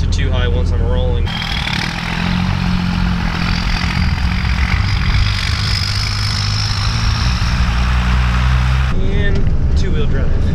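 A five-speed Cummins 12-valve diesel dually truck drives through snow with a steady, loud, low engine drone that holds for several seconds, with someone talking briefly at the start and end.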